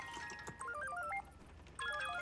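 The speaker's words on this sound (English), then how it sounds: "What is that ringtone?" Phone ringtone in the video game Spider-Man 2, a short bright electronic melody of stepped beeping notes that plays twice with a brief gap, clear and close.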